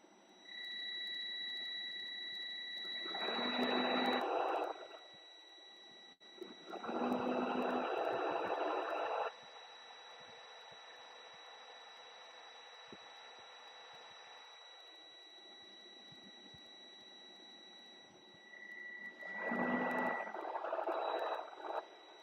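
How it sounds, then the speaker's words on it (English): A truck's warning buzzer sounds in repeated steady tones, three longer bursts separated by quieter stretches, with a constant electronic whine underneath and no talking. "Sorry about the buzzer, that's my truck."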